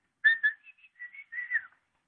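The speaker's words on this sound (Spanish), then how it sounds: "él le chiflará así." A man whistles a signal call, a short melodic phrase of several bright tones with brief gaps, clear and close against silence.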